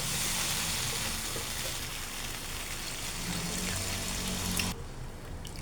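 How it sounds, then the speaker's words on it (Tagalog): Water poured from a container into a cooking pot with a scorched bottom while making mung bean soup with chicken feet, a steady broadband splashing rush lasting nearly five seconds before cutting off abruptly, leaving a quieter hiss. "Tsaka nyo buhusan ng tubig."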